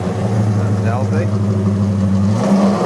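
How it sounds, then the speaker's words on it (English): Car exhaust rumbles steadily at close range with an engine revving, loud and continuous with a slight lift near the end, while people talk over it. "this car, as far as the exhaust goes, it's not too gnarly"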